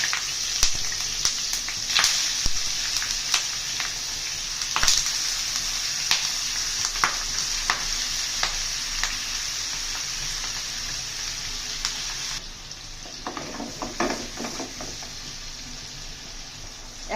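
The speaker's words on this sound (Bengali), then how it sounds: "এবার প্যানটা গরম হয়ে গেছে আমি একা করে মাছগুলো দিয়ে দিয়েছি" Fish sizzling and crackling in a hot pan, dense spitting pops throughout, quieting near the end as it is moved about.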